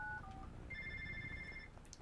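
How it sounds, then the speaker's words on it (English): Faint electronic ringtone from a game controller speaker during Infamous First Light: a short descending pair of tones, then a sustained warbling ring lasting about a second, quiet beneath low background noise. "My, controller is ringing."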